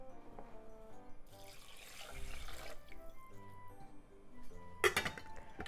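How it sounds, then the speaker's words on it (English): Water runs into a pot of rice being prepared for a miso pork bowl, a soft rushing splash over quiet tonal background sound, ending with a sharp clink of glass or cookware. "It's 2 cups of rice, so I'm adding 2 cups of water."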